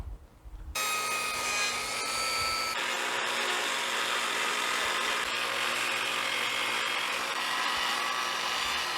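A table saw whines loudly and steadily as it cuts through a wooden dagger board for a dinghy, holding a continuous close roar for several seconds after starting up, with no voices.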